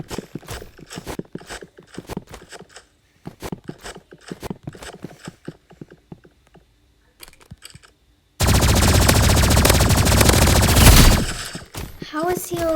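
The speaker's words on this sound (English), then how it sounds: "We're gonna use my energy pistols." Energy pistols firing in the Rivals video game: a burst of sharp repeated shots spread over the first eight seconds, then a loud sustained blast of rapid fire lasting about three seconds, followed by a few brief chirping effects.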